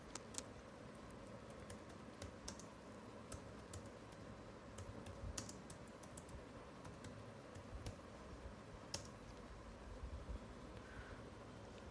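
Typing on a computer keyboard, quiet rapid irregular key clicks in bursts over a soft background hiss, with no talk.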